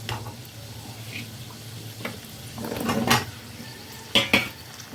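Pumpkin and potato pieces fry with spices in a pan under a low sizzle, with a few scraping stirs and sharp clinks of a utensil against the pan, close by and without speech.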